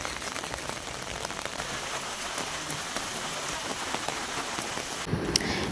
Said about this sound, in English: As you can see, it was raining cats and dogs and we had a hard time reaching the destination.